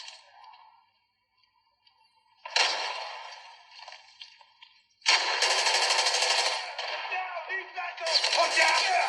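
Gunfire in the mobile shooter Call of Duty Mobile: a faint opening shot, then a louder burst, and finally sustained rapid automatic fire in close, harsh, crackling volleys, with no talk.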